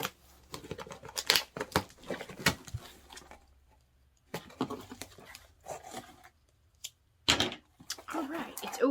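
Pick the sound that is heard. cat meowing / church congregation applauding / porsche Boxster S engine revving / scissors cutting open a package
scissors cutting open a package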